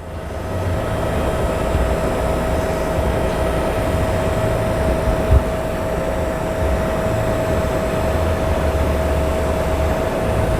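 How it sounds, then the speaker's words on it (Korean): The lift motor of a truck wing body hums loudly and continuously with a constant pitch as the wing rises, alongside a low mechanical drone, no voices present. "그럼 모터 소리만 합니다 모터 소리만"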